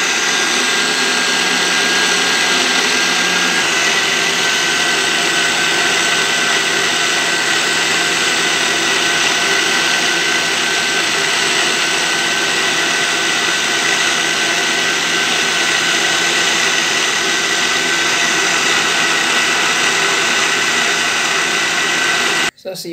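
A blender runs steadily at high speed for about twenty-two seconds, blending green plantain and oats into a porridge base, with a loud, continuous motor whine that cuts off abruptly at the end.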